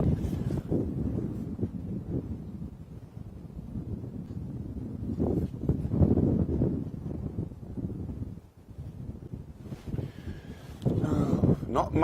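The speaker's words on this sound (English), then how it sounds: "I'm sure you can hear it on the top mic. This gusting wind." Gusting wind buffets a microphone on an open-area safari drive at sunrise, a low rumbling roar that swells and dips and briefly drops out near the end; a voice talks over it at times.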